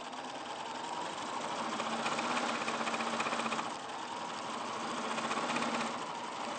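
A sewing machine runs steadily, stitching smooth, silky cotton-backed fabric, its fast mechanical whir rising and falling slightly in speed over several seconds with no voices.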